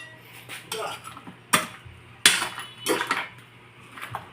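Mussels, shrimp and vegetables are stirred in a cooking pan, giving several sharp metal utensil scrapes and clanks against the pan at irregular intervals, fairly close and moderately loud, with no talking.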